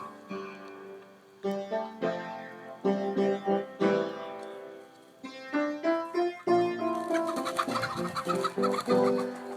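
Chickens cluck repeatedly in short, close bursts, a busy flock growing louder and more crowded toward the end.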